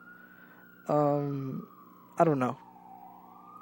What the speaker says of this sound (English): Fire truck, well, that's ambulance outside.